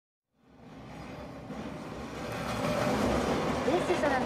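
A train rolling past in the Final Fantasy VII Remake slums, a rumbling roar that swells in from near silence and builds steadily louder, with clattering low rumble and faint voices underneath.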